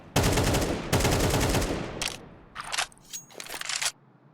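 Gunfire in Counter-Strike on the Overpass map: two long, loud bursts of rapid shots, then several shorter scattered volleys and single cracks that trail off into quiet, with no voices.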